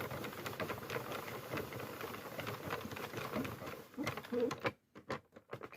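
A Sentro circular knitting machine being cranked around, giving a dense, fast plastic clicking and rattling that runs steadily, then breaks into a few separate clicks near the end.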